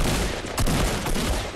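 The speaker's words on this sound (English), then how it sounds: "they're shooting" Rapid gunfire from a Fortnite battle royale match, with a burst assault rifle among the weapons: a dense run of shots crackles continuously and loudly for the whole clip, growing heavier midway, with no talk over it.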